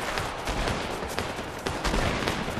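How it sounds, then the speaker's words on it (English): Gunfire in a squad-based battle royale shooter game, fired while going in with a shotgun: several loud, sharp blasts in quick succession over busy game noise. "I'm just gonna go in there with the shotgun."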